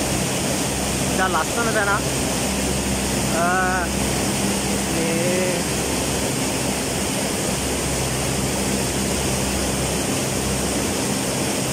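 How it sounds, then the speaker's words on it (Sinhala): Makeli Ella waterfall in Sri Lanka, heard from near the top of the falls as a loud, unbroken roar of rushing water, with people talking briefly over it early on. "ඔයාලට පේනවා ඇති මේ අපි ඇල්ල උඩ මැත්තේ ඉන්නේ මේ දැන්"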